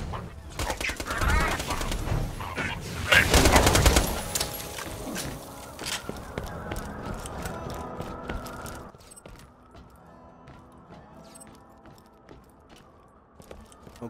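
Bursts of rapid gunfire and explosions from the shooter game Borderlands 2, loud and dense early on, then thinning into scattered sharp shots and clicks toward the end.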